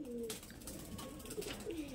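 Pigeons coo in soft, low rolling calls that swell and fade across the moment, faint and somewhat distant, without speech.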